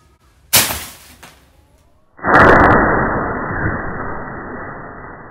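A fire-stone toy firecracker, a rural children's Tet toy, goes off with a sharp pop, then a louder burst followed by a long, fading fizz and crackle, close by with no talk.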